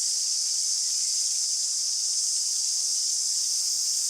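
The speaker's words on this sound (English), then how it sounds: "And these fly-like things are cicadas." Cicadas sing in daytime bush on a bay in the Marlborough Sounds, New Zealand: a dense, steady, high buzzing drone that holds unbroken and fairly loud throughout, with no voices.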